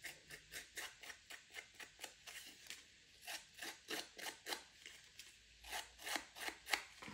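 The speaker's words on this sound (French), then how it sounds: "On va venir ici gratter un peu le papier." Paper being scraped with a tool while making a scrapbooked pop-up easel card, heard as a steady run of short, rhythmic strokes, close and fairly quiet, with no talking.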